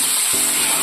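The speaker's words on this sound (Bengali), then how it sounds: "দেখো পেঁয়াজটা ভাজা ভাজা হয়ে এসছে" Chopped onions sizzle in hot oil with whole cumin and a bay leaf, a steady close hiss that lasts under a second and swells slightly as something is stirred in.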